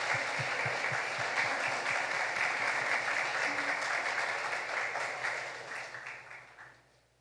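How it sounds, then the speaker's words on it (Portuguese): Sustained applause from a Catholic parish community gathered at a faith formation event, a dense steady wash of many hands clapping that holds for several seconds, then thins and fades away at the end. "a salva de palmas de toda aí a comunidade"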